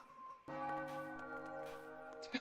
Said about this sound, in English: Wait, we can actually ring the bell?